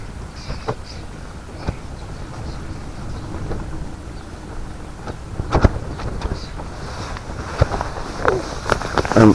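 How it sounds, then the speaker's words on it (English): Gusts of wind buffet the microphone outdoors, rough low rumbling with irregular bursts that grow stronger toward the end. "It's windy as well."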